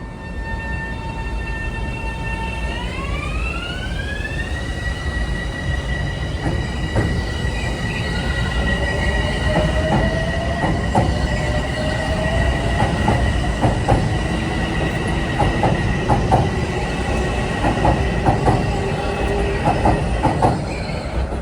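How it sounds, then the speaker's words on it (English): Metro-North commuter train 353 bound for North White Plains rolls past near the Harlem River, a loud steady rumble with a falling horn-like tone, then squealing wheels and rhythmic clacking over rail joints, heard alone throughout. "Over there is 353 for North White Plains, one of those real snail rail trains."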